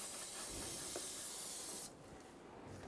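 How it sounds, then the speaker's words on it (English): Brake parts cleaner sprayed from an aerosol can onto the oil-covered area around the oil pressure switch of a 2000-2007 Ford Focus, a steady close hiss lasting nearly two seconds before cutting off to quiet. "Using a can of brake parts cleaner,"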